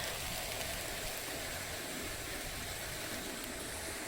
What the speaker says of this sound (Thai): เสียงน้ำไหล จะดังมากเลยนี่